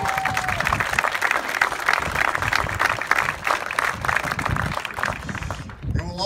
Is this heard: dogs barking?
no